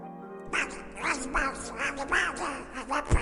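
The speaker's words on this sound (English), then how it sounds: "Donald Duck wishes a Merry Christmas" A Donald Duck cartoon voice quacks out a garbled, rhythmic phrase in a string of nasal squawks, fairly close and clear.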